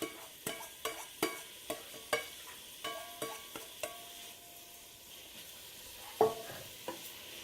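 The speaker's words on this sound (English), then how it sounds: "So the butter and the oil is now melted. We're going to be adding the onions." Onions frying in melted butter and oil, a soft background sizzle punctuated by a regular series of sharp knocks and scrapes as a utensil stirs the pan, with a louder clatter near the end.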